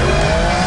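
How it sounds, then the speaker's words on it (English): Aston Martin V12 engine with a tuned exhaust note, a steady, loud broadband roar that fills the whole short moment with no pauses or voices. "Absolutely beautiful noise that you only get from a 12-cylinder engine"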